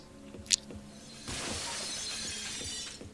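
Glass shattering in Deadly Premonition: a sharp, bright smash rings out early, followed by a sustained crackling hiss of scattering shards that continues to the end.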